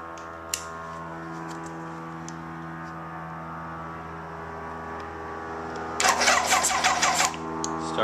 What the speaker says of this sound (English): Starter motor.